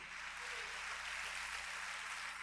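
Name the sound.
congregation applause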